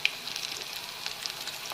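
Cauliflower bajji fry in hot oil, giving a faint, steady, crackling sizzle with small pops throughout.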